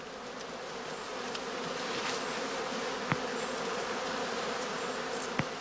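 Honey bees swarm around a traditional straw skep hive, a dense continuous buzz filling the air with a few louder passes of single bees close by.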